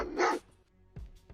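A man imitates a dog's bark with a voiced woof followed by two short, quieter bursts, heard close and alone against a faint background on a live sports show.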